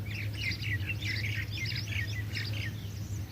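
Birds calling over a groundnut field where lapwings and pigeons gather, repeated bright chirping phrases in short bursts at moderate distance over a low steady hum.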